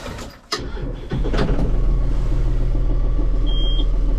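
A John Deere 5065E three-cylinder tractor cranks over and fires up, settling into a loud, steady diesel idle close by, with a brief high electronic beep near the end.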